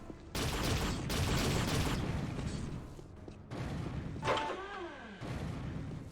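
Heavy explosive blasts and booming fire from rocket launchers in the shooter game Unreal, loud repeated bursts broken by short gaps, with a rising, whooshing sweep near the end.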